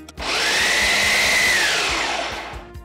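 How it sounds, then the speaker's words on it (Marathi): A kitchen mixer grinder purees tamarind and jaggery water in a steady, loud motor whir that lasts about two and a half seconds, starting abruptly and winding down at the end, with no voices. "चिंच गुळाचं जे पाणी आहे हे मिक्सरमध्ये छान याची प्युरी तयार करूयात"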